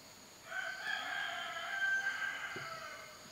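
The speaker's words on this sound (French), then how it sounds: "mis à part les coqs" Roosters crow in a quiet natural setting in Vanuatu, with one long cock-a-doodle-doo call at moderate distance. It rises over a calm outdoor background, and no talking is heard.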